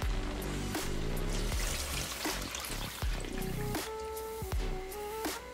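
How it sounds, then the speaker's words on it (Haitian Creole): Water trickles and pours into a pot of rice and vegetables for riz jardinier, a soft splashing stream broken by a few sharp clinks, with no one talking. "maintenant, on va ajouter de l'eau"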